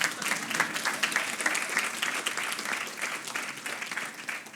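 Audience clapping at a spiritual discourse on the Bhagavad Gita, a dense steady patter of many hands sustained throughout and fairly close, with no talk over it.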